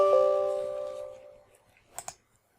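A computer keyboard gets a quick double click near the end, like the Enter key being pressed, after a fading tonal chime; otherwise quiet.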